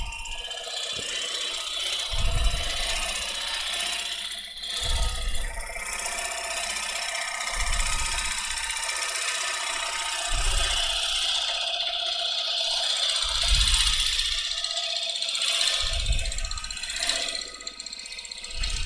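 A lathe gouge makes a gentle push cut on spinning wood with the bevel rubbing: a steady, loud rasping whir with a dull thump recurring every few seconds, with no voices.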